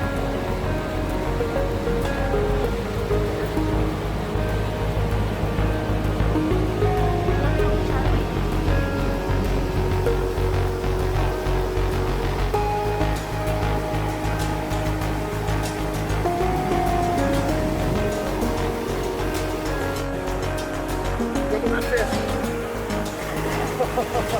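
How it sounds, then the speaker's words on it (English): Steady broadband rush of water pouring through pools in a mountain grotto at Castle Falls in the Rockies, a continuous roar filling the space with faint voices mixed in. "Sounds of rushing water all around, a true oasis in the mountains."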